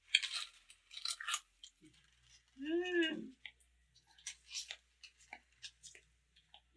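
Crunchy snacks chewed close up in a Maithili home comedy scene, with bursts of crisp crunching at the start and end and a brief vocal sound in between.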